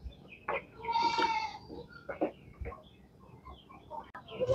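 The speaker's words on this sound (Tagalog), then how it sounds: "Yan yung ating mga kambing guys, so nakaabang sa nilang kumpay." Several goats bleat nearby, short wavering calls at irregular intervals, with a chicken clucking faintly in the background.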